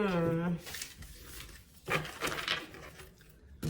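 A deck of tarot cards is shuffled up close, with papery rustles and riffling scrapes after a brief voice at the start.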